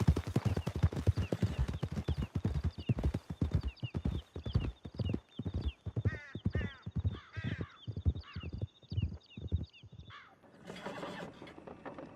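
Horses gallop hard in a Red Dead Redemption 2 chase, rapid hoofbeats pounding loud and regular, later easing off as a whinny and bird calls drift over the fading rhythm.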